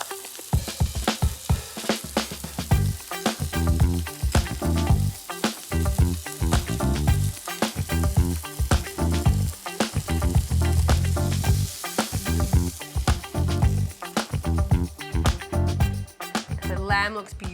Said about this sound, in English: we're going to put it straight onto the pan and then cook it to how you like it